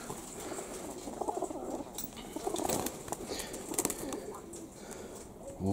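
Young sport pigeons, white among them, coo softly with scattered wing flaps and light patter in a loft, a busy, moderately faint mix with no talk.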